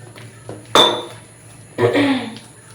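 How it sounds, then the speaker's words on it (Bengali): A utensil clinks against a bowl while gram flour (besan) batter is mixed, giving two sharp clattering strikes about a second apart, each ringing briefly before fading. "দেখো এখন বেসনটা গুলে নিচ্ছি"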